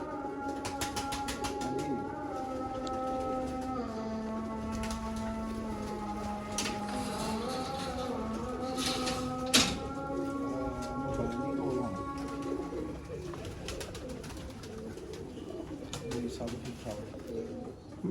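Dub pigeons of the Mian Nazir bloodline cooing on a rooftop loft, a steady layered chorus of low coos running throughout, with a voice talking over them and a brief sharp knock midway.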